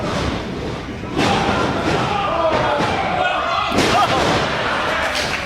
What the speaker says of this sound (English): Caught him midair, slams him down to the mat.